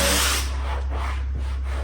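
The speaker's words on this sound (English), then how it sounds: "I always like to spray a little water in the channel so it helps the slip strap slide back a little easier." Water sprayed from a bottle into the weather strip channel of a car window in a garage, a close hiss that quickly fades into quieter sputters.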